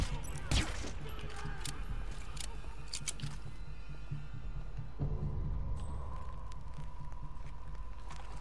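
Gunfire in the video game Hitman: Absolution during a fight night scene, with a sharp shot near the start and another around five seconds, set against a steady background game hum.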